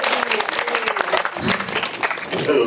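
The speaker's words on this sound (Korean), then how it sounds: "기왕에 저희 박수 한번 쳐드리죠." A film screening audience at a special GV event claps together, with distinct individual claps standing out over a lively, uneven wash of applause that swells toward the end.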